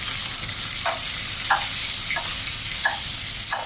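Steak sizzles steadily in a pan with brown butter, a loud continuous frying hiss broken by light periodic scraping or stirring taps, with no voices.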